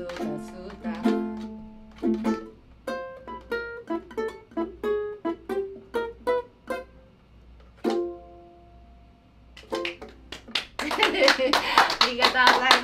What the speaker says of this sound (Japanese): 今までで、ね、一番拍手が多い。